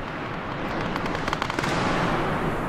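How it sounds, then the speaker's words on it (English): Distant gunfire in a military shooter game, a low continuous rumble with a brief cluster of sharper far-off cracks in the middle, no voices. "Hearing some more gunfire in the distance."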